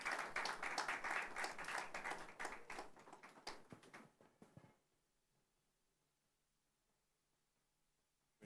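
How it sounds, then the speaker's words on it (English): Audience at an African development event claps in a dense, fairly close round of applause that thins into scattered claps and fades out, followed by near silence. "A round of applause, please."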